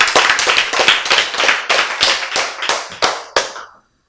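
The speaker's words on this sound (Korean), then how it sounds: "박수." A lecture audience claps in a short burst of about a dozen sharp, close claps in a quick, slightly uneven rhythm that thins out and stops abruptly into silence.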